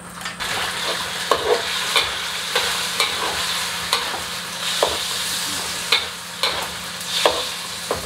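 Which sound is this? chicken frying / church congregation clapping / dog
chicken frying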